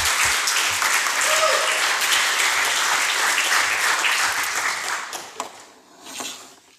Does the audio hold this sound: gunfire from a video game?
no